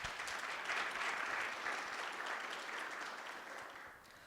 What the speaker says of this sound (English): how about a round of applause for Ness?